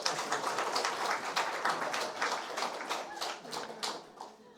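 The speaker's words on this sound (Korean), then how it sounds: "박수 한번 보내주십시오" Applause from a church congregation during a Sunday service at Good Tree Church, a dense patter of many hands clapping steadily for a few seconds and fading slightly near the end.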